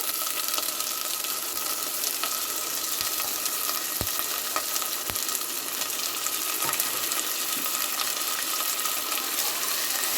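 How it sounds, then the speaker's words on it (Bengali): Chicken sizzling hard in hot oil with reddened onions, a loud, dense, continuous frying hiss from close up with a few faint clicks of a utensil. "এবার আমি চিকেনটা দিয়ে দেবো তেলের মধ্যে"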